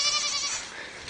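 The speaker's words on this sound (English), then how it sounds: "Those are Barbados sheep. They are hair sheep and not wool sheep." A Barbados hair sheep on a homestead lets out a single short bleat, bright and wavering, heard from nearby with no talking over it.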